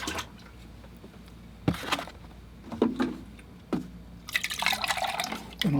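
Murky watercolor painting water is poured out and a container refilled with clean water: bursts of splashing and pouring, a few drips and clinks, then a steady stream of filling toward the end, fairly close.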